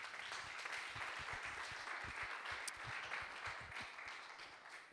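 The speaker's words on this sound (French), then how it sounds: "Geneviève Cossenza, qu'on peut applaudir bien fort, ici présente." An audience at a general assembly meeting applauds steadily, a dense patter of many hands clapping together without pause.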